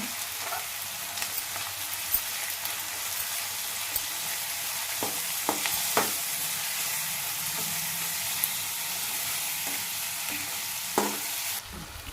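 Onion and tomato with salt and turmeric fry quietly in a pan, giving a soft, steady sizzle with occasional spoon clinks and stirring scrapes; nobody speaks.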